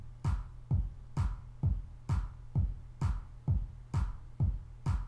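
Reason Redrum clap sample, louder and pitched up, repeats as a steady loop of about nine sharp, snappy claps evenly spaced roughly half a second apart, alone without any talk.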